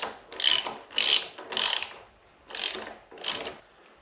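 A ratchet wrench works on motorcycle bar riser bolts, giving five distinct bursts of close, loud clicking with short pauses between them.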